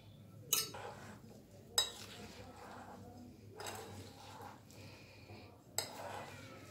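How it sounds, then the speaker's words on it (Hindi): Spiced cauliflower pickle being mixed in a pot, with a few sharp metallic clinks of a spoon against the pot standing out over a quiet low hum. "अचार नूं आपां चंगी तरह मिला लैणा, जिहड़ा बाकी दा तेल बचिआ आ उह तेल वी पा देणा"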